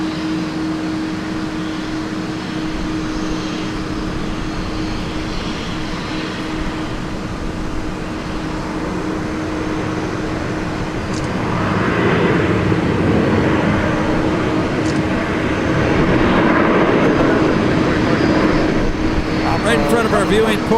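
Airliners taxiing at Minneapolis–St. Paul Airport make a steady low jet-engine rumble and whine that swells louder in the second half, with someone talking throughout.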